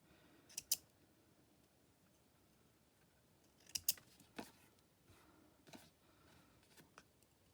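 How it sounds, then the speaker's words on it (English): Scissors snip pieces off paper receipt tags: a few quiet, close cuts come as crisp double clicks with pauses between, with faint rustling and no talking. "Just cut off the ones that look a bit odd."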